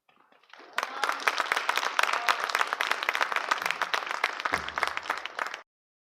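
Audience at a school arts festival's final performance breaking into applause, rising quickly to a full, bright clatter of many hands that holds steadily before stopping abruptly.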